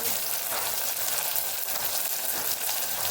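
Garlic paste frying in a pan for a spiced potato rice, a steady, close, dense sizzle that holds even and unbroken throughout with no voices.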